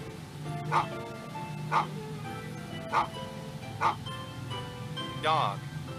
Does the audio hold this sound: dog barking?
yes